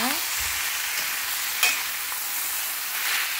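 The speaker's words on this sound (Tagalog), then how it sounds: "ilalagay niyo na ngayon ang lahat ng eggplant na pinirito niyo kanina. Ayan. ihalo halo niyo siya." Browned fried eggplant stirred back into a hot sauté pan, giving a steady close sizzle with a sharp utensil clack midway and soft scraping throughout; no voices.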